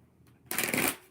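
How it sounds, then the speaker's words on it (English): A deck of tarot cards being shuffled, one quick riffle of flapping card edges, close and fairly soft after a quiet moment. "Okay, let's do 2 more shuffles."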